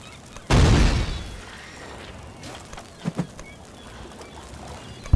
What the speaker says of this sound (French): ce serait bien qu'ils arrêtent de nous tirer dessus à coups de canon